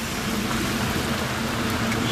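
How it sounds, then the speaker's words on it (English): Steady rain hisses evenly throughout, a dense, continuous wash of noise without other distinct sounds. "The rain came back."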